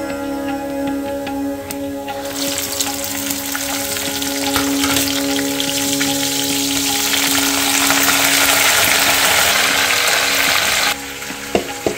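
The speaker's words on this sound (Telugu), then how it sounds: "చక్కగా తాలింపు వేస్తాను" Hot oil tempering for onion pulihora sizzles loudly and continuously in a pan, the crackle swelling stronger midway before cutting off abruptly.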